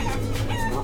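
Chickens clucking during a chicken fight in the video game Guacamelee! 2, a brief burst of busy clucking over constant background game sound.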